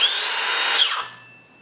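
A Makita XSH03 18V brushless 6-1/2-inch cordless circular saw whines loudly at full speed for about a second, then winds down as the motor spins down to a faint fading hum.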